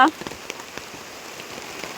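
Rain patters steadily on a surface during an outdoor vlog, with light scattered drop hits and a brief voice sound at the start.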